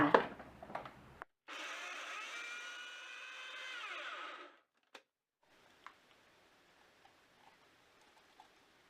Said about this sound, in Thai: ใส่ทุกอย่างลงไปในโถปั่น ปิดฝาแล้วก็ปั่นให้ละเอียดเลยค่ะ